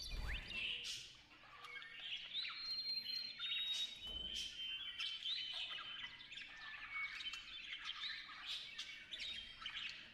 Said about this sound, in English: There's not even, like, any music. It's just bird sounds.